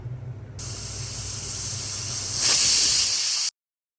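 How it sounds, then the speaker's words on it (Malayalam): A pressure cooker hisses steadily with steam, loud and continuous, with a low rumble underneath. The hiss grows stronger near the end before it cuts off abruptly. "അഞ്ച് നാലോ അഞ്ചോ വിസിൽ കേൾപ്പിക്കുക"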